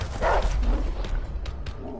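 A dog in the video game A Way Out lets out a short burst of barks near the start, then a couple of fainter yips follow over low game background noise.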